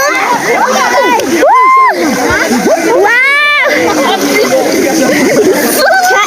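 Water splashes and sloshes continuously in a natural outdoor pool while children shout and chatter excitedly close by.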